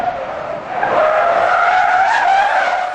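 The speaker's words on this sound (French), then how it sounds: "la Logan part en tête à queue, mais ne déjante pas." A Dacia Logan skids into a spin during a moose avoidance test, its tires squealing in a loud, sustained, wavering screech that swells partway through, with no talk.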